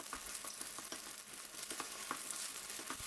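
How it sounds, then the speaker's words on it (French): An egg frying in hot oil in a wok, a continuous crackling sizzle with small pops, close and even, nobody talking. "on met l'œuf quand l'huile est bien chauffée."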